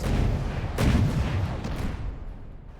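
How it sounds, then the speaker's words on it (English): Shells pound down in a naval battle video game, a burst of heavy booming impacts with a sharp crack near the middle that fades out over a few seconds, no talk. "And did it actually do any more damage with this bombardment of shells right now?"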